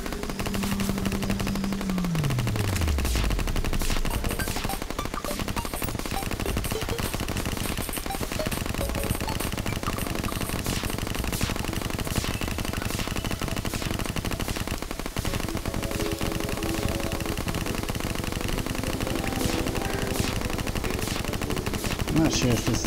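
Rapid, continuous gunfire from Ichor bullets in the game Terraria rattles in dense, evenly spaced bursts throughout, with a descending tone early on and a constant layer of game effects beneath.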